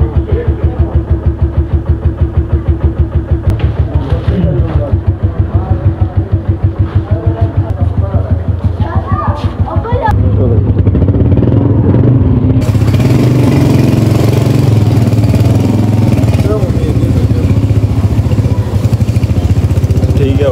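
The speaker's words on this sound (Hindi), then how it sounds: "बाइक हो गया जी स्टार्ट" A motorcycle on a rough mountain road near Kalam in Swat, its engine throbbing loudly and close in a rapid steady pulse that shifts into a smoother rumbling idle partway through, with someone talking loudly over it.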